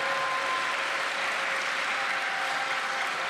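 A crowd at a Los Angeles mayoral address applauds Dave Grohl and his wife Jordan, a steady wash of many hands clapping at moderate distance, even and sustained throughout.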